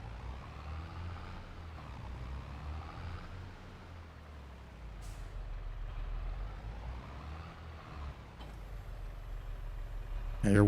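A mulching machine pulled by a low-horsepower tractor in Farming Simulator 22 gives a steady engine drone with a grinding rumble that rises and falls. It stays moderately loud and continuous, and a brief hiss appears near the end.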